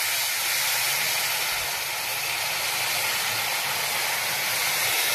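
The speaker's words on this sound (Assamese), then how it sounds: "মই এতিয়া পানী দিম। এক কাপ পানী দিছোঁ।" Hot water poured into roasted semolina for halwa hisses and sizzles in a steady, loud steamy rush that carries on throughout.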